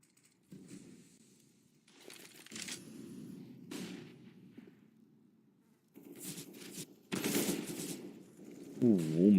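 AK rifle fire in a Counter-Strike match comes in scattered bursts of sharp shots separated by quiet gaps. Occasional clatter and a rising tone near the end mix in.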